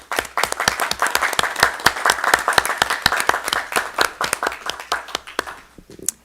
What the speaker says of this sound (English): give a round of applause to all of our wonderful directors for all of their hard work in all these areas